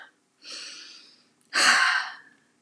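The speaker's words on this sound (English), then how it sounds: "let's take a deep breath" A person taking deep breaths, a softer breath followed by a louder, sharper inhale, close and alone.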